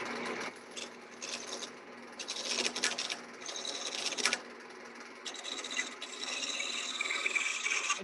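Roughing gouge shaping a wooden handle spinning on a lathe, a continuous close rasping and scraping that swells and eases over several seconds, with no talking.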